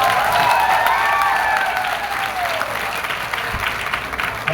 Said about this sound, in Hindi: अरे जोरदार ताली बजाओ मैं सर के लिए।